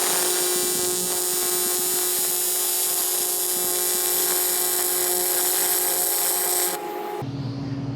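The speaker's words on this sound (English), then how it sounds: "So really I'm just goofing off on a little pad weld." A Lincoln Squarewave TIG welder arc on a small pad weld, with a contaminated tungsten, gives a steady loud electric buzz with a constant tone that runs unbroken and then cuts off abruptly near the end.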